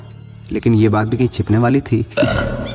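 A woman belches loudly in a Hindi film scene, guttural, resonant burps blended with her speech in a close, loud burst lasting a few seconds.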